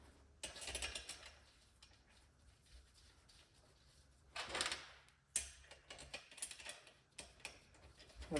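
A hand ratchet snugs down the ring gear bolts on a Dana 44 differential during a regear, giving bursts of close, dry clicking separated by quieter pauses.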